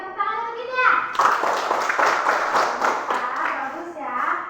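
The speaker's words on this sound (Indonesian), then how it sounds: "tepuk tangan untuk kita" A primary school class claps hands together in a burst of rhythmic applause after a teacher's prompt, with a voice talking at the start and children's voices mixed in.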